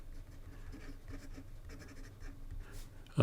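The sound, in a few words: fountain pen with Jowo medium nib writing on paper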